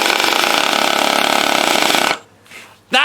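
A power drill whines steadily at close range as its bit spins on a stripped Torx screw, then cuts off abruptly, leaving brief faint noises and a short burst at the end.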